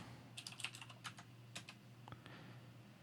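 Rapid keystrokes on a computer keyboard while entering Linux terminal commands, a steady run of close, crisp clicks over a low hum with a brief pause near the end.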